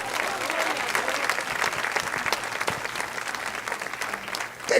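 A church congregation claps together in a loud, lively burst of applause, dense and sustained through the moment, rising again at the close.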